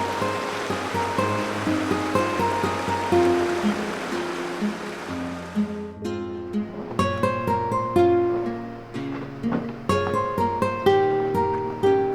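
The Chippewa River in northern Wisconsin rushes over a short rocky drop in a loud, steady wash of water that gives way midway to plucked musical notes.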